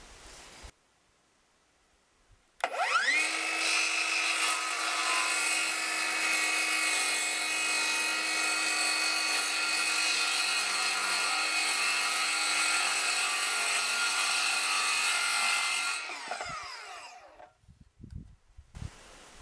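A power saw trims the wooden edges of a door for an off-grid cabin's mechanical room. It spins up sharply, cuts in one steady, loud, continuous run for about thirteen seconds, then winds down into quiet handling noises.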